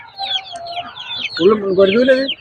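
Domestic chickens cluck and call at the Peruvallur poultry market, a busy mix of close bird noises with a louder, drawn-out crow-like call near the end and some voices in the background.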